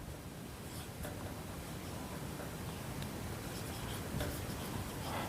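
Pen or pencil scratching on paper during a class 8 maths lesson on percentages, faint and close over steady background hiss, with soft irregular strokes.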